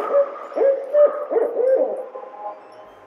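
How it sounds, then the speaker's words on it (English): A barred owl gives its eight-hoot call, a run of husky, slightly buzzy hoots in an uneven rhythm over about three seconds, fairly close and alone. "The barred owl's 8-hoot call is easy, too."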